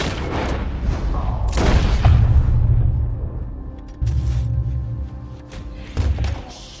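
A gun goes off in Red Dead Redemption 2 with several loud, booming shots and heavy thuds, close and forceful, followed by quieter rumbling with no talk over them.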